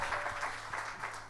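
A church congregation applauds during a worship service, a dense wash of clapping hands with a few rhythmic swells, steady and moderately loud throughout a brief moment.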